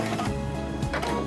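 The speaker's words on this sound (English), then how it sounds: "on this machine we also have an automatic thread trimmer" Automatic thread trimmer on a Quantum Stylist 9960 sewing machine engaging, giving a short close mechanical whir with a couple of clicking pulses.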